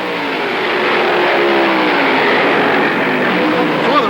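A 1969 NASCAR field of Dodge Chargers and Fords races past. The loud engines roar and drone together in a continuous, swelling rush that slides down in pitch as the cars go by.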